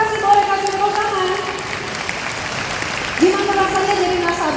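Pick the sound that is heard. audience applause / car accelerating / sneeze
audience applause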